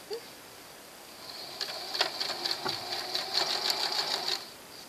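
A sewing machine stitches a seam on a T-shirt. After a quiet moment it starts up into a close, steady, fast whirring buzz that runs for about three seconds before stopping.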